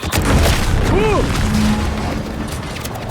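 A sci-fi video game explosion in The Outer Worlds 2 rumbles as a loud, sustained low boom over dense background noise, with tonal whooping game effects layered on top.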